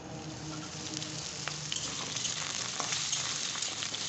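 Potatoes frying in hot mustard oil with nigella seeds and dried red chillies, a dense crackling sizzle that grows slightly louder and busier throughout, heard alone at moderate volume.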